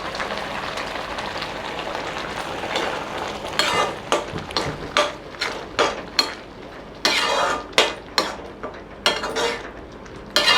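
Tomato jam with cashews and raisins being stirred in a pan, a steady scraping texture broken by a run of sharp, close spoon-on-pan clacks and taps in the second half, with no talk.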